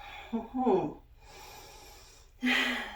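Breathing during a yoga balance class: a few audible breaths, a voiced exhale that rises in pitch, then a pause and a sharp airy inhale, close and fairly quiet.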